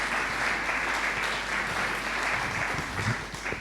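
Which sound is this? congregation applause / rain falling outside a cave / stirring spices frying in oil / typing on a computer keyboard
congregation applause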